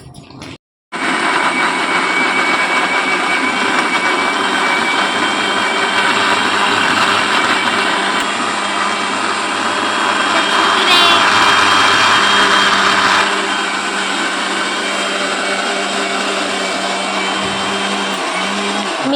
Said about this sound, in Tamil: அரைஞ்சிச்சு தக்காளி. இன்னும் கொஞ்சம் அரையணும்.